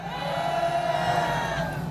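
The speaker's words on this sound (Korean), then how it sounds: "큰 함성으로" Crowd at a Korean political street rally sends up a sustained roar of cheering and shouting, steady and loud throughout with no clear breaks.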